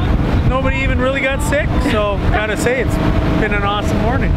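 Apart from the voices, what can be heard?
boat engine noise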